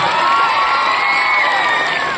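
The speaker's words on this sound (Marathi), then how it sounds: "सर्व मुलांचं सगळ्यांनी टाळ्या वाजवून स्वागत करूया" A school crowd of children and adults cheers and shouts to welcome the children at an outdoor tree-planting event, a loud, dense burst of noise that lasts only a couple of seconds.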